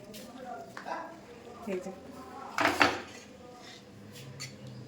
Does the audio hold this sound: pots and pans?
yes